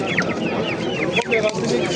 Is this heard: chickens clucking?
yes